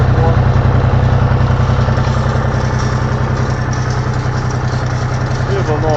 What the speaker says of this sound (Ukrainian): І отак на першій передачі собі поволі їду, попри волокна.